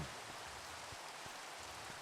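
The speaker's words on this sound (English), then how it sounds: "Rain, go away." Steady rain falling in Minecraft, a constant hiss of dense drops with no distinct impacts, moderately loud and continuous throughout, with no voices.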